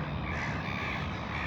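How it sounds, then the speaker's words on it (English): Gulls call over a dense, steady wash of outdoor noise, their harsh cries continuous and moderately loud with no talking. "gulls over here"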